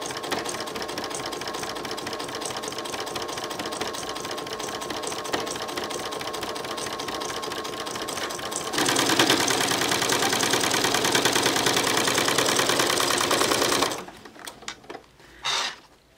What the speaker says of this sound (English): you see it sewed it very nicely again on both sides